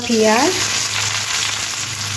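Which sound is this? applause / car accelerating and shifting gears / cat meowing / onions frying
onions frying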